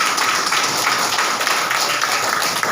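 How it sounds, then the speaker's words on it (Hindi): Crowd applause for leaders at an Indian gathering, steady dense clapping with no break. "एक बार जोरदार ताली"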